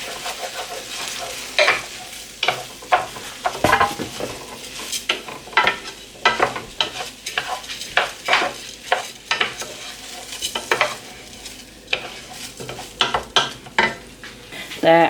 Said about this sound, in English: So I'm just going to stir this all through.